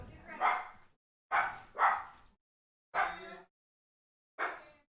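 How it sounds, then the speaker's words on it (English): A dog barks at someone at the door, four loud, sharp bursts, one a quick double, with short silent gaps between them, heard close by indoors. "You're gonna hear some barking a little bit."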